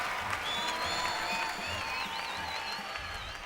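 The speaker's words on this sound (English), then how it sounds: "Taking the applause tremendously." Crowd applauding at a European amateur dance championship in Finland, a steady dense wash of clapping filling the whole stretch, with faint cheers and whistles riding over it at a moderate distance.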